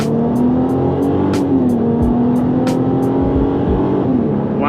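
A Ford Mustang accelerates hard past a Prius, its engine roaring loud and close with a steady rising drone and brief higher-pitched bursts throughout, no voices over it.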